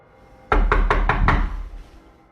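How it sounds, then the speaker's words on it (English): Five quick, firm knocks land on a door in an even rhythm, loud and close, followed by a fading resonance. "There is then a knock at the door."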